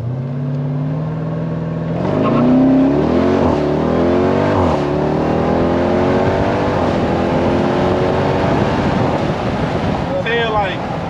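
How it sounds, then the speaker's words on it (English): A Jeep Trackhawk engine rises under full throttle in a long, loud, climbing roar with a gear change partway through, then settles into a steady drone with wind and road noise. "you can just hold that gas all the way down"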